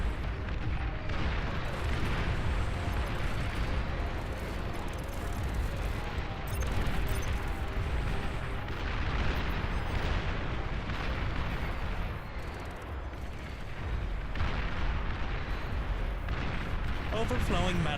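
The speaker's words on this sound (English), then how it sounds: "So much artillery." Constant artillery fire rumbles through a massive battle in the RTS game Beyond All Reason, a dense, unbroken wash of overlapping booms and crackles that stays loud throughout with barely any pause.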